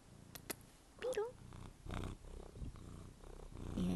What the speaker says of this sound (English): Hey, bug, are you purring?